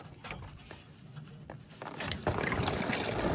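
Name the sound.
coolant water spilling from removed VW Polo hose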